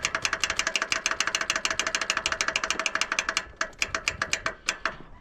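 Starter on a Toro 60-inch zero turn mower clicking and cranking as the solenoid engages, a loud, close run of rapid, regular mechanical pulses that slow and space out toward the end.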